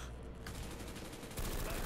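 Rapid gunfire rattles continuously in a Black Ops custom zombies match, dense automatic bursts growing louder toward the end.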